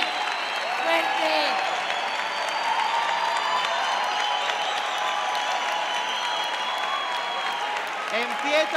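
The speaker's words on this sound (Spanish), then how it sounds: "¡Fuerte aplauso!" An audience at a drag queen gala in Torremolinos bursts into sustained, loud applause and cheering that fills the hall, while a host's voice calls out over the crowd.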